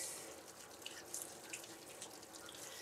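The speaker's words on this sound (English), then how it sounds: "So rinse it so all of the products, all of the conditioner is rinsed out." A tap runs steadily while a Schnauzer is rinsed of conditioner during grooming, a soft continuous hiss with faint splashes and drips and no voices.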